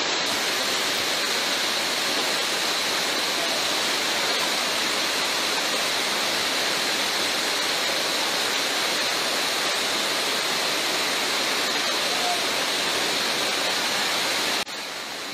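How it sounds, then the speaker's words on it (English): Flooded river rushing during torrential rain in Merida, Venezuela: a steady, dense hiss-roar of churning water that stays loud and unbroken throughout, with no voices. "Merida is once again suffering from the flooding of the river while the rain increases in the municipality of Alberto Adriano El Vigia"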